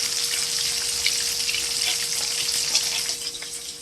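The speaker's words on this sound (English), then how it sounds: "And I fry my fish on a low fire." Snapper fillets fry gently in oil over low heat, giving a steady, even crackle and hiss that carries on unbroken throughout, close by with no voices.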